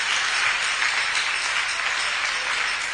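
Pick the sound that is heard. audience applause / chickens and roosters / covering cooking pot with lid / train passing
audience applause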